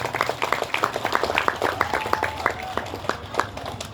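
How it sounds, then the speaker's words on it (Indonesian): People in the crowd at TPA Darussalam in Muara Sugihan clap during a welcome speech by the DPW Sumsel chair, a run of distinct, scattered claps at moderate loudness over a faint room hum. "Tepuk tangan untuk TPA ini."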